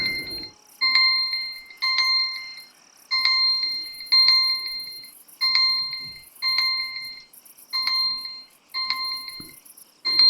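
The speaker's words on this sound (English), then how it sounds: "oh, there's my alarm." An electronic alarm sounds in bursts of rapid, high, bright beeps, each cluster lasting about a second with short gaps, repeating steadily and loudly throughout with no voices over it.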